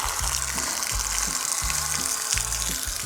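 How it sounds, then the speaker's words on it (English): Water gushing steadily from an outdoor campsite tap, a continuous broad hiss and splash under a repeating low mechanical hum, with no voices. "removing all those tap covers from every single tap in the park and running water for at least 2 minutes"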